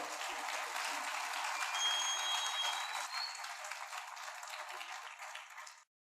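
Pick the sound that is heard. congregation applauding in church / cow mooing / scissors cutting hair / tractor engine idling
congregation applauding in church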